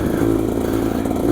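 A Beta 250 RR motorcycle engine runs steadily at close range, a loud continuous buzzing drone with no talk over it.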